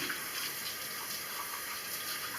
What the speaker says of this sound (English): rinse the spoon, put it in the dishwater